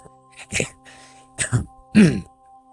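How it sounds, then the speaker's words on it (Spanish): A few rough coughs or throat-clearing bursts, close and fairly loud, spaced out over a couple of seconds with short pauses between them. "me entra la tos"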